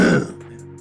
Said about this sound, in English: Freaking coughing can't clear my throat.